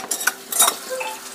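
Crab pieces coated in onion-garlic paste dropped into a hot kadhai for a Konkan crab bharit, giving brief bursts of crackling sizzle and a soft clatter of utensil against metal, close and without talk.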